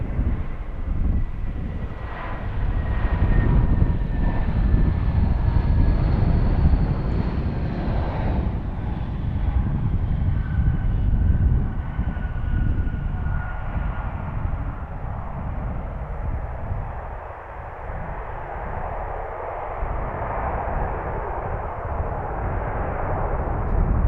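An airliner arriving at Philadelphia airport on a windy morning with a crosswind, a steady, loud engine roar with a whining tone that shifts in pitch as the aircraft passes, heard outdoors amid wind noise.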